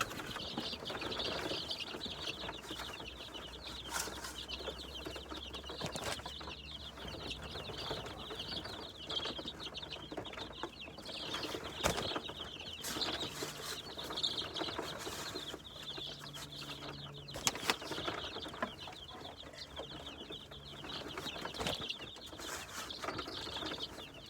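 Hoover Hatchery chicks in a brooder, a continuous faint chorus of high peeping with scattered clicks and light knocks from the brooder, no talk.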